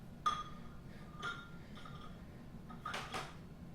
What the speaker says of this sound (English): We can remove the ring compressor.